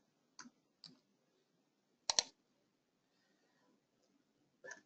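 A few sharp computer mouse clicks in business accounting software, spaced apart and close over near silence.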